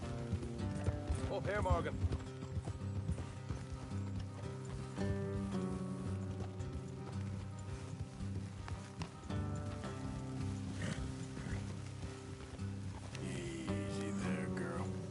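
Horse hooves clip-clop steadily in the Red Dead Redemption II video game, a continuous rhythmic trot beneath a music score and a voice talking.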